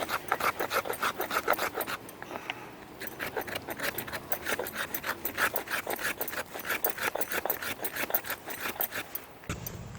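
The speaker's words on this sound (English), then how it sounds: "I'm going to make some more shavings here. These are fine shavings." A knife blade scrapes fine shavings from a piece of fatwood, a quick steady rasping of repeated short strokes, close and alone, running without pause until a brief break near the end.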